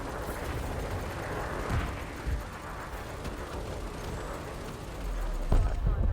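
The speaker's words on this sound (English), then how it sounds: "Love my multi-cannons." Ship-mounted multi-cannons fire in Elite Dangerous in continuous dense rattling bursts lasting several seconds. The sound is loud and gritty, broken by a few heavier thumps, with a louder surge near the end.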